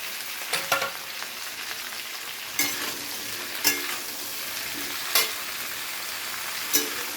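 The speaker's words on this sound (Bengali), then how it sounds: "এবারে সব সবজিগুলোকে খুব ভালো করে নেড়ে চেড়ে" Winter vegetables (radish, onion greens, tomato) are stirred in a pan for a prawn curry over a soft continuous sizzle. Several sharp scraping strokes of the spoon cut through at irregular intervals, close and clear, with no voices.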